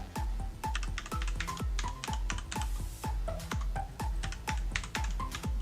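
Keys clack on a computer keyboard as a new Windows 11 password is entered, a quick irregular run of close, crisp keystrokes, some in fast bursts, with no talking.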